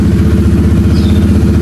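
A Honda Vario motorcycle engine runs close by with a steady, loud, rhythmic low chugging idle and a mechanical clatter, sounding alone throughout.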